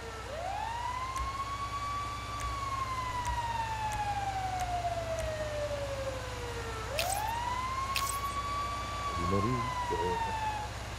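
Fire truck siren in GTA 5 wailing loud and close, two long rising-and-falling sweeps with a brief horn-like blast between them, over steady game background noise.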